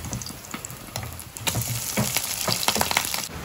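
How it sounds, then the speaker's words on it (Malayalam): Fish roe fry sizzles in hot oil, a close crackling hiss with a dense run of sharp pops and spits that grows busier and louder toward the end. "ഇങ്ങനെ എണ്ണയിൽ കുറച്ച് പരത്തി കൊടുത്തിട്ട് ഒരു വശം മുരിഞ്ഞ് വരുമ്പം അരച്ചിടാം"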